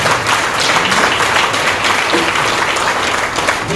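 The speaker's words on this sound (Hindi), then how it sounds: "एक जोरदार तालियां भी हो जाए" A large audience claps at an Indian company event honoring a trainer, dense, steady applause filling the room at close range for the full stretch without a break.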